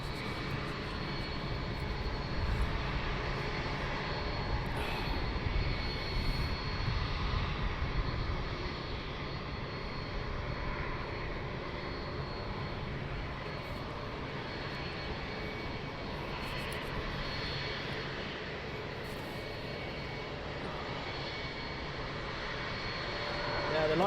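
Aircraft landing and taking off at London Luton Airport, a continuous broad jet-engine roar at moderate distance, swelling slightly near the start and end, with low voices faintly underneath.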